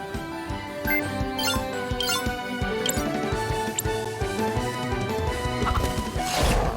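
A chicken clucking in the video game Cris Tales, heard amid busy game music and sound effects, a series of short, close squawks and thumps, loud and continuous, no talk.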